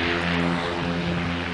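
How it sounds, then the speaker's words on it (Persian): Propeller-driven seaplane on water in winter, its engine a steady droning hum with a low tonal buzz, moderately distant and constant throughout. "هواپیمایی که رو آب میشه."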